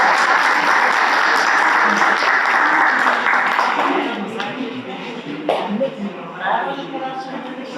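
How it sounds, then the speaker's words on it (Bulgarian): An audience at a kindergarten's 50th anniversary celebration in Karlovo, Bulgaria, applauds the children, dense clapping loud at first and then thinning and fading, with scattered voices and shuffling. "Още веднъж аплодисменти за децата."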